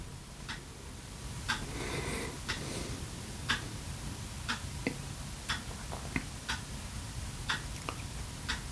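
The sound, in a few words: clock ticking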